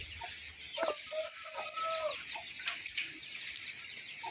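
Young chickens of a fighting-cock line clucking nearby in short, scattered calls, with a few sharper chirps and squawks over quiet farmyard background.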